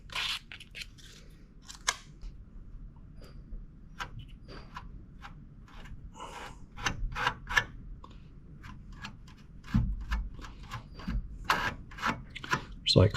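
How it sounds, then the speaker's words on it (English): Razor blade mixing repair compound on a Foxbody Mustang console, close, irregular scraping and clicking strokes in quick bursts, some louder rasps, with faint background noise. "I'm just going to use a razor blade to mix it up."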